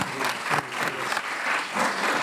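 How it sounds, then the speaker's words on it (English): Applause from an audience at a leadership and public policy institute event in Geneva, a steady, dense wash of many hands clapping close by that swells and dips in waves throughout. "Another round of applause."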